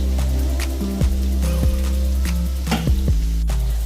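Sliced onions, curry leaves and green chillies sizzle steadily in a hot pan for Burmese egg curry, a continuous close frying hiss broken by occasional stirring scrapes, with faint background music.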